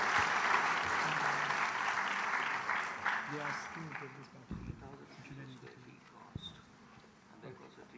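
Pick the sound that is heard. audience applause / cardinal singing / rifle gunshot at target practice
audience applause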